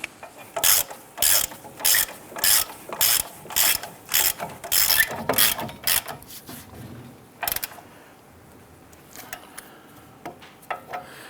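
Hand ratchet snugging ABS speed sensor bolts on a 2002-2008 Dodge Ram 1500, a steady run of close, rhythmic clicking strokes for about six seconds, then a few scattered clicks and quiet.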